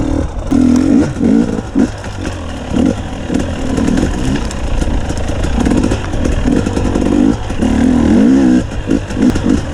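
A 2021 GAS GAS 250 EC dirt bike rides over slippery, frozen ground, its two-stroke engine buzzing loud and close with repeated throttle blips and revs rising and falling throughout.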